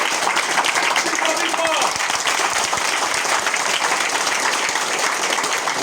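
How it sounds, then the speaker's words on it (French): Audience at a school ceremony applauding as a new director is installed, dense continuous clapping close by, with voices talking over it. "je vous demande d'applaudir"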